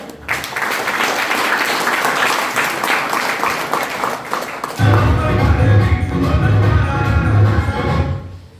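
Loud audience applause for a man named Prakash, a dense burst of clapping that swells midway, holds for several seconds, then fades out.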